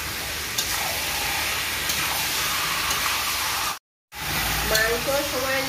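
Chillies and whole garlic cloves fry in a pan with a steady, loud sizzle and occasional stirring scrapes, broken by a brief silent gap before the sizzling resumes; a voice talks faintly over it.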